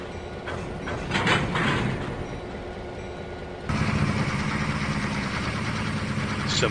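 A GP38 diesel locomotive in the Trainz 2019 simulator chugs at a low, steady idle, then grows louder and rougher partway through as the engine note steps up and holds.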